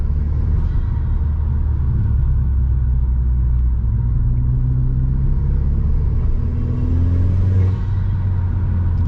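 A first-generation SEAT Leon Cupra R on the move, its engine a steady low rumble with gentle rises in pitch as it pulls, heard from inside the cabin over continuous road noise, with no talking.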